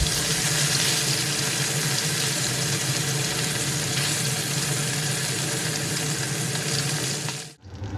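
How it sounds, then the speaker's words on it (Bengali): Continuous loud, broadband sizzle of fish pieces frying in hot oil in a kadai, flipped to the second side, steady throughout, with a brief dip near the end. "মাছের এক পাশ ভাজা হয়ে গেছে, এবার অপর পাশ ভেজে নেওয়ার জন্য উল্টে দিচ্ছি।"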